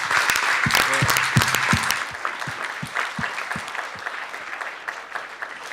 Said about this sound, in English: je voudrais aussi que nous nous applaudissions tous mutuellement